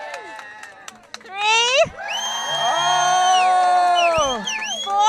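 An audience at a comedy and music show tied to Busted Sandal Brewing erupts into loud, sustained cheering and high yelling, a dense wall of shouting voices that stays strong for several seconds.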